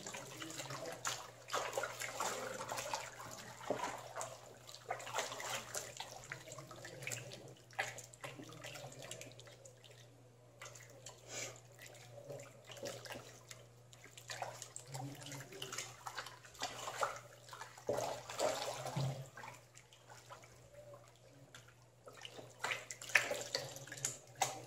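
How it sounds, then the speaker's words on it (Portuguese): Hot water runs and splashes steadily into a container, six litres poured while mixing homemade liquid degreasing soap, a continuous close trickle and gurgle with no talk. "Vou colocar agora, gente, água quente, tá? 6 litros de água quente."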